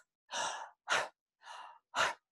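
A voice imitates strong, deep breathing, four forceful breaths in even alternation of longer inhales and sharper exhales, close and isolated against silence.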